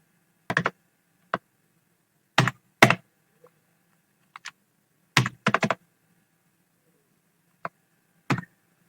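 Computer keyboard typing during data entry of names and marks into a result sheet, scattered short clusters of close, crisp key clicks separated by quiet pauses.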